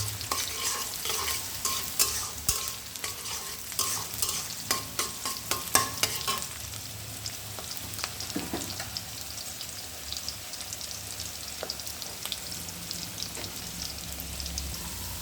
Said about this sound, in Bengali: তার তেল গরম হলে এর মধ্যে আমি দিয়ে দেব পেঁয়াজ কুচি